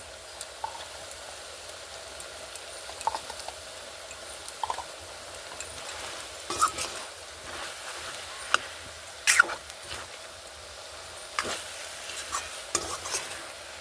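A spoon stirs dried fish curry with salt in a pan, scraping and clicking irregularly over a soft, steady sizzle, close by and fairly quiet.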